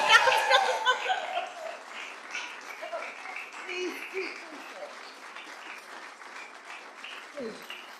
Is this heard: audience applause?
yes